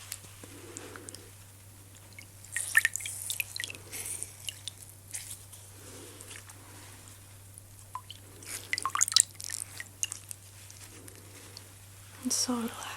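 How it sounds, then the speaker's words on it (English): Dripping, running water in a soft-spoken personal-attention session, with gentle drips and trickles in repeated bursts alongside quiet close-up handling sounds and a low steady hum. "that sweet, dripping, running water."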